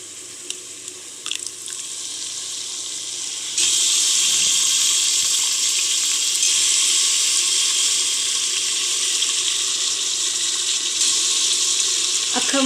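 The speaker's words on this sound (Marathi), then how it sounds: "आता आपण त्याच्यामध्ये आपण भिजत ठेवलेलं अख्खं मसूर घालून घेऊया" Soaked whole masoor lentils are tipped into fried masala in a pan for a dhaba-style curry, setting off a sudden loud, steady hiss and sizzle that holds close and even to the end, with no voices.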